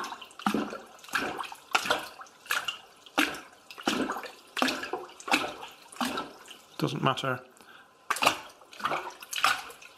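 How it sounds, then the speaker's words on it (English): Water sloshes and splashes in a container fitted with straws as it is pressed and pushed, giving repeated bursts of wet splashing throughout, mixed with close talking. "I'm splashing it around, but nothing's shooting up there and coming out the top."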